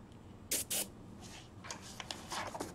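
Airbrush spraying in short warm-up bursts while painting realistic eyes: two sharp hissing puffs close together, then several softer, quicker sprays, faint and close with no talking.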